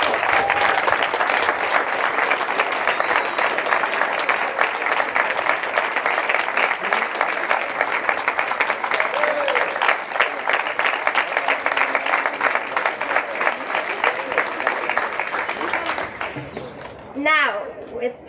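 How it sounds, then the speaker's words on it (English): A large audience at a school athletics celebration gives a sustained, dense round of applause lasting about sixteen seconds, loud and close, before fading out with a few scattered final claps. "Can we please give a round of applause?"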